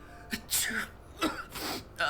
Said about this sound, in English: please do not get all your sneezes all over me